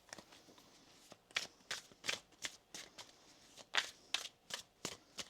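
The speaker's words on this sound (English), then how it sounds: "Let's get some oracle cards for you." Oracle cards being shuffled in a series of crisp, papery riffles and slaps, about a dozen distinct bursts spaced unevenly, close and fairly quiet with no talking.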